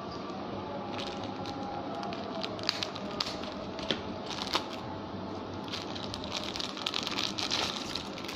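A small plastic accessory bag from a toy figure box set, not resealable, is cut open, giving steady close crinkling and rustling with scattered sharp snips and crackles throughout.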